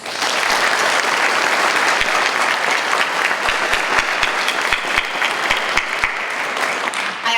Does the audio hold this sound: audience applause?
yes